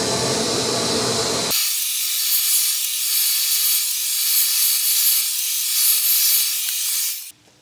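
Sandpaper pressed against a turned wooden vase spinning on a lathe gives a loud steady hiss, broadband at first, then thinning to a bright high rasp before stopping abruptly.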